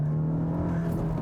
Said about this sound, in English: I'm going to put it in first gear, and I'm basically going to floor it